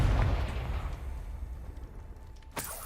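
A Confringo blasting curse detonates in the Hogwarts Legacy video game, a loud rumbling explosion that decays over the first two seconds, followed by a sharp crack near the end.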